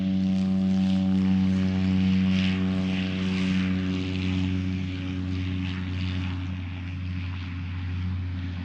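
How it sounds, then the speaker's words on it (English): A propeller aircraft takes off, its engine drone steady and loud with strong low harmonic tones, holding near and continuous throughout with a slight fade toward the end. "We'll just let the plane take off."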